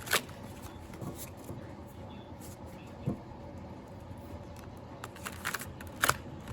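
Tarot cards shuffled by hand in quick riffling bursts, stiff and somewhat clumpy, with brief crisp flutters and clicks at irregular moments against a quiet room background.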